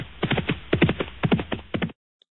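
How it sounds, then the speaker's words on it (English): A horse whinnies: a quick run of rough, pulsing cries lasting about two seconds, then silence. "What sound does a horse make?"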